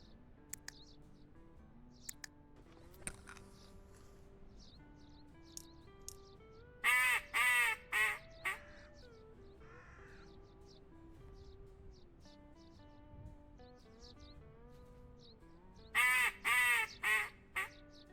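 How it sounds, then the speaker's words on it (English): Wild ducks quacking during a duck hunt, in two loud clustered bursts of rapid calls over quiet outdoor background with scattered faint bird chirps, no talk. "I just heard some ducks calling while I was doing all that."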